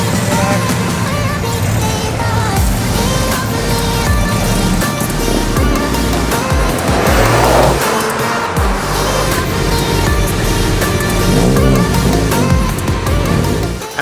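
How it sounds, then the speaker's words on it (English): Classic cars roll out of a university car park in Western Australia after a cars-and-coffee meet, engines rumbling and passing in overlapping waves, loud and near, with a few revving surges. "as the last cars roll out of the car park here at the University of WA"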